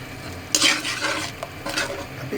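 A spoon stirring tikka karahi in a pot, scraping and sizzling in close strokes with a few metallic knocks, no voices.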